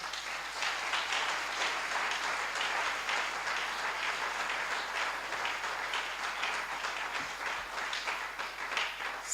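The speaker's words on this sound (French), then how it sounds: "Applaudissons le Seigneur." A church congregation claps and applauds steadily for several seconds, a dense, continuous patter of many hands filling the room.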